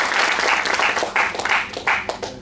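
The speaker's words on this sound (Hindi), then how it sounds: "तो एक जोरदार ताली बजा सकते हो।" Loud audience applause from a room full of people following a Kangen water machine demonstration, sustained clapping with several surging waves across a couple of seconds.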